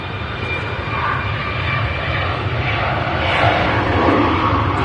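An EasyJet jet airliner taxis at Manchester Airport, its engines holding a steady, fairly loud whine and rumble that swells slightly toward the end, with no voices over it.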